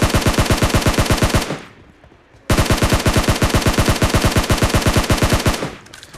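Rapid automatic gunfire in an online shooter video game, loud and close: a sustained machine-gun burst, a brief pause, then another long steady burst.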